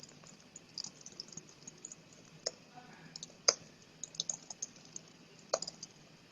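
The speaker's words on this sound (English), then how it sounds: "and just type anything." Soft, scattered key clicks from typing on a computer keyboard, irregular taps and a few sharper presses, quiet and close over faint room hiss with no talk.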